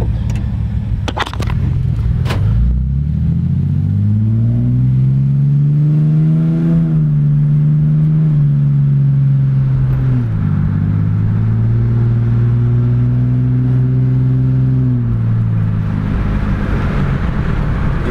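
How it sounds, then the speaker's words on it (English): A 1999 Ford Explorer Sport with a Dynomax exhaust driving with the windows down, the engine rising through revs, easing off and pulling again in a loud, close, throaty drone with no talking. "I'll give you a little what it sounds like when it's driving."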